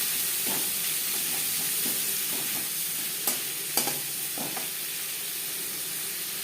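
Three chopped onions frying in a pan for an aloo chicken curry, a continuous close sizzle and hiss with soft stirring scrapes throughout and two louder clinks of the utensil near the middle.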